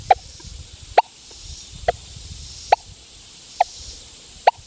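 A Deus 2 metal detector with an HF2 coil sounds off over a buried US half dime, giving six short, evenly spaced beeps about a second apart against faint background hiss.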